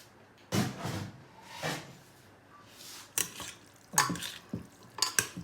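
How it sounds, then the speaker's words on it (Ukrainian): A spoon stirs boiled beans and fried vegetables in a pan, with several scraping, clattering strokes at irregular intervals close by, some louder knocks toward the end. "Зараз ми то все перемішаємо."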